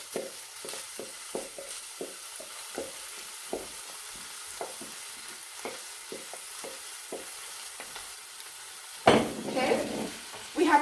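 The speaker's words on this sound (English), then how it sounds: "we're just going to fry up the rice with the onion and garlic here" Rice frying with onion and garlic in a pan over a lower-than-medium flame, with repeated soft scraping and stirring strokes in a steady rhythm, then a louder burst of sizzling near the end.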